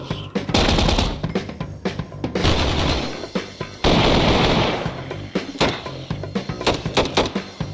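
A P90 fires from a Minecraft gun mod, loud close video-game gunfire in short bursts and repeated single shots, with brief pauses between strings.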